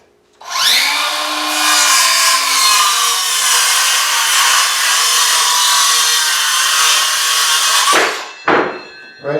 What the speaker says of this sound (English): Cut the longest stud first.